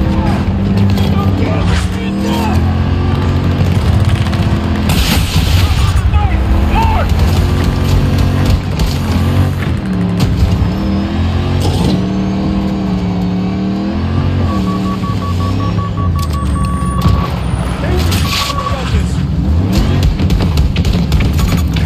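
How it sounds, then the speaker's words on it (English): Heavy vehicle engine roars and revs continuously in a Battlefield 2042 match, loud and close, with a tonal battlefield hum, distant game chatter and voices layered over it. "Enemy vehicle! 90 meters from your position! Spotted a hostile tank!"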